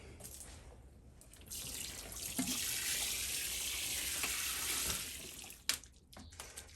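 Water poured over freshly sown pea seeds in a garden, a soft rush of spray that swells and holds for a few seconds then stops, followed by a clunk.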